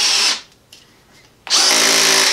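A Craftsman 20V brushless hammer drill drives a 5-inch screw in two loud, close bursts of motor whine separated by a short quiet pause, the second burst starting abruptly and running hard to the end.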